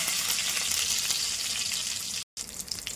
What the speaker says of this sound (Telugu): సిమ్లో పెట్టుకుని అయితే వేయించుకుందాం.